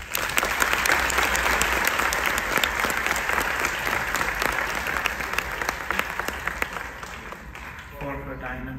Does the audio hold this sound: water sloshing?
no